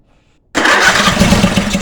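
A 22 horsepower Briggs engine cranks and catches after half a second of silence, bursting into a loud, rough, steady running roar close by.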